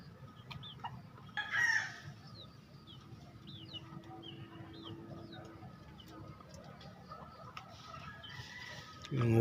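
White Kelso chickens in a backyard flock, several hens clucking and short crows with chirping birds nearby, a louder crow near the start and another burst at the very end, moderately close and without speech.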